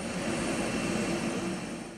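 Fixed-wing passenger airplane bringing a group of tourists to Adıyaman, Turkey, heard as a steady, broad engine roar that holds for about two seconds and then eases slightly, with no voices.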